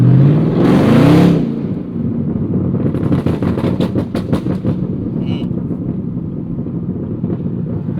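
A Chevrolet Camaro exhaust revs up loudly, then settles into a stretch of rapid crackles and pops in an irregular string, close to the microphone, with no talking.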